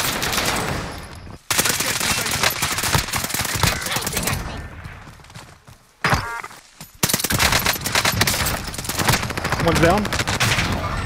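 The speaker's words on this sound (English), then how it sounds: "They're shooting at me." Rapid gunfire in a first-person shooter video game, dense and close, rattling almost continuously with a couple of short breaks, while a player talks briefly over it.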